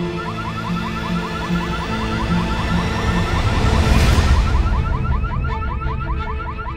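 Car alarm blaring close by, a loud repeating warbling tone with a steady rhythmic pulse that carries on for several seconds over a rumbling background.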